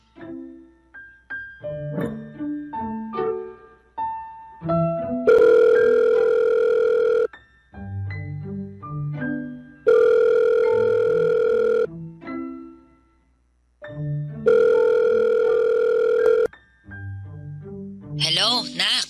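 A cellphone call rings out as a loud melodic ringtone, playing short runs of tones in a repeating pattern with sustained buzzing bursts in between, alone, with no talk.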